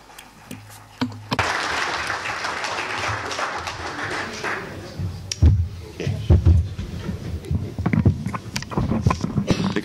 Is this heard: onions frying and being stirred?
no